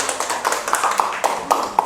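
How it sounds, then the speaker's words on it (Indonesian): A few people clap at a church worship service, with sharp, fairly regular strokes over a roomy hiss of background noise. "Tepuk tangan dulu"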